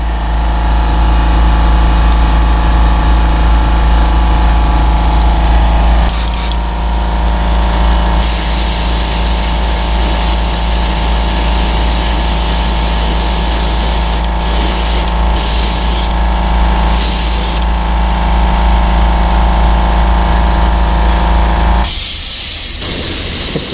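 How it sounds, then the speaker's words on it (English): Long continuous hiss of a spray gun spraying light coats of paint on a custom Glide, loud and close, with brief pauses and restarts and a low compressor hum underneath. "Just a light spray."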